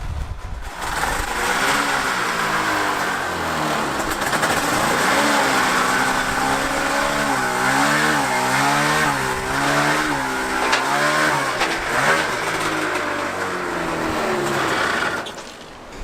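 A Mazda RX-7 fitted with a snowmobile engine fires up and revs hard and continuously, with a loud buzzing, high-pitched engine note rising and falling close by for about fifteen seconds before it cuts off.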